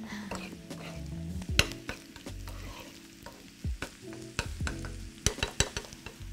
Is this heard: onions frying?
yes